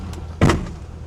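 A 2003 Chevrolet Corvette's door swings shut with a single solid, close thump over the steady low rumble of its idling engine, with no talking.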